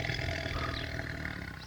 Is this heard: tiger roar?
yes